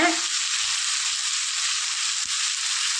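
Tomatoes sautéing in a pan with a little salt while a ridge gourd sabzi is being cooked, giving a steady, close, continuous sizzle with no talking.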